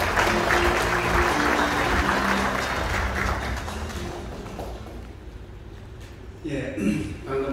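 Audience applause at the 19th Automobile Day ceremony in a Seoul hotel hall, loud and dense clapping that fades after a few seconds with a brief swell near the end.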